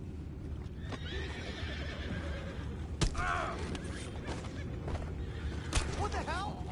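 Horses neigh and whinny over a busy mix of hooves clip-clopping and ambient noise, with a couple of sharp clacks and a voice briefly underneath, in Red Dead Redemption 2.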